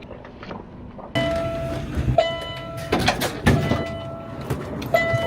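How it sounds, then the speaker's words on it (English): Steady rumble of a fast train in motion, with a sustained tonal whine, rattling carriage noises and occasional clunks and knocks. "This is a high-speed train for sure."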